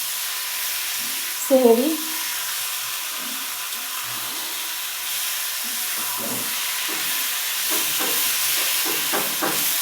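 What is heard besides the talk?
red amaranth greens frying with onions in a pot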